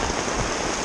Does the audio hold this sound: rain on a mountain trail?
yes